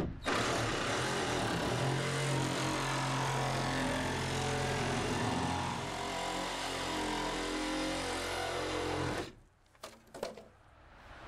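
Power tool trimming the end wall off a plastic CULTEC stormwater chamber: a loud, steady buzzing motor-driven cutting runs for about nine seconds, then stops abruptly, followed by a few brief clatters and knocks.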